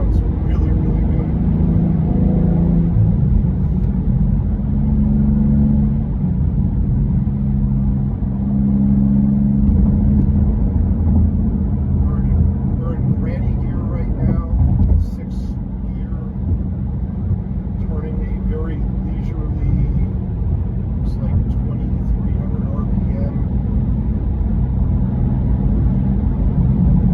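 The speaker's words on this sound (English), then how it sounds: "this is a motor, a turbocharged motor that actually sounds really, really good." A 2024 BMW M2 with a manual gearbox and turbocharged engine cruises along, its steady loud engine drone and road rumble filling the cabin under continuous talking.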